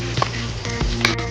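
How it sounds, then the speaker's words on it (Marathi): Curry leaves frying in hot oil, a close steady sizzle with a few small pops and clicks over a low background hum. "दोन पळी तेलामध्ये ना आपण या कढीपत्त्याच्या ढाळ्यात ना ते तळून घेणार आहे"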